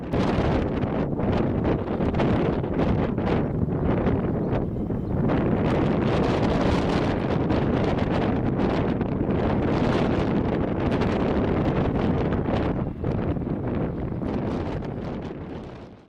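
Strong crosswind roars and buffets against the microphone as an Azores Airbus neo lands sideways on a runway, a dense, unbroken rushing wash that fades only slightly near the end.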